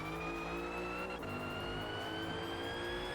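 Race car in Forza Motorsport at Laguna Seca accelerating out of a corner, its engine note climbing steadily and loud over about three seconds, with a brief dip partway through.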